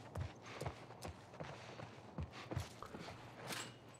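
Horse hooves clip-clopping in The Last of Us Part I, a soft, steady walking rhythm of muffled thuds heard faintly under a quiet outdoor ambience.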